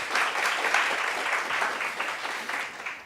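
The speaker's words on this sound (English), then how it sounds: "give yourself a round of applause" An audience at an optometry undergraduate research presentation gives a round of applause, steady clapping from many hands filling the room for a few seconds without pause.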